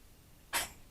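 A single short, sharp sneeze bursts out of a quiet room, close and fairly loud, with faint background hiss before and after.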